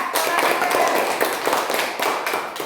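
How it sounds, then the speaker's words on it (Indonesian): Schoolchildren in a classroom clapping for a classmate after a reading lesson, a short burst of quick, uneven hand claps close by, a little ragged and bunched in spurts over under three seconds. "Tepuk tangan buat teman kita."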